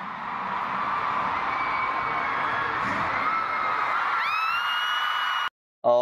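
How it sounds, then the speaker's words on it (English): A concert crowd screams and cheers in a sustained, dense roar with a few rising high-pitched shrieks near the end before it cuts off abruptly. "Listen to the screams, guys. Listen to the crowd."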